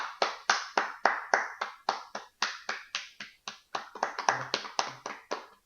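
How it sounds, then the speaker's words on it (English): A man claps his own hands in a quick, steady series of about twenty sharp, close claps, each with a short decay. "It's bad to clap for yourself."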